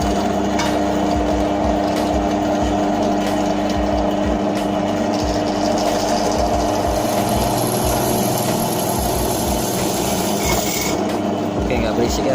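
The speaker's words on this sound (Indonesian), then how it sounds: "coba untuk ngebor ya." A RYU RBD 13 bench drill press runs in a motorcycle workshop, drilling a hollow steel plate with a loud, steady motor whine and grinding, rattling chatter throughout.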